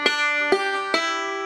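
Bluegrass banjo picks Silent Night measure 4 with thumb-middle rolls, three bright plucked attacks about half a second apart, each ringing on with sustained metallic overtones, close and clear.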